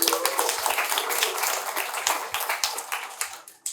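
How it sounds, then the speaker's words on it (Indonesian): An audience at a political discussion event breaks into dense, lively clapping that fills the room near and loud, then thins and tapers off into scattered claps. "Tepuk tangan dulu dong."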